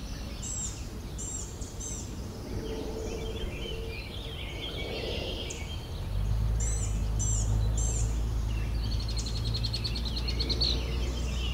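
An Orchard Oriole sings in a red-winged blackbird habitat outdoors, giving short bright chirping phrases repeated over a steady low rumble of wind or distant traffic, moderately far and faint.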